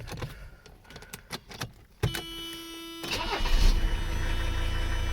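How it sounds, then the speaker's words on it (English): A warm Mercedes 300CD diesel engine cranks with a whirring starter, catches and settles into a loud, steady clattering idle, preceded by a few clicks and taps. "So let's see if she cranks now."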